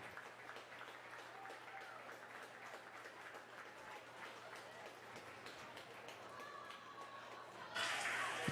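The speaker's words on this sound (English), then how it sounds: "you can hear the claps" Crowd applause at a varsity high school football game, steady distant clapping and rain-like patter spread across the stands, swelling louder near the end as a player walks off the field.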